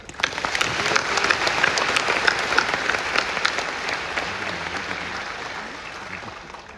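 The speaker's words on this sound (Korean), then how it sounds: "격려의 박수 한번." An audience at a Won Buddhist gathering gives a steady round of applause of encouragement, a dense wash of clapping that stays even for several seconds and then tapers off.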